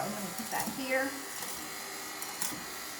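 An electric mixer whisks a chocolate mixture made with organic cocoa, giving a steady, fairly faint whirring buzz beneath a person talking.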